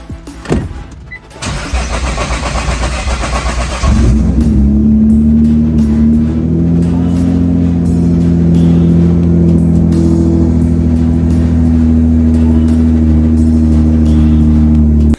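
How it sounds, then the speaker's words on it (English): Nissan GT-R cranks with a loud starter whir for a few seconds after a fuel pump install, then catches and settles into a steady, close, rumbling idle with no talking. "just gonna fire the car up, make sure she all works good. It'll probably crank for a minute because the fuel lines are all purged"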